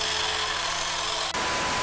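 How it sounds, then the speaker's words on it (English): A chainsaw cuts through a thick stack of cardboard layers, a steady loud buzzing roar that runs throughout, its tone shifting abruptly partway as the blade bites deeper. "The chainsaw only reaches halfway."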